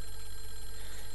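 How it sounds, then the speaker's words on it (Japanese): A telephone rings inside the mansion in Clock Tower, a continuous bright electric bell trill filling the whole moment at steady volume. "さっきから電話鳴ってるな、気になる。"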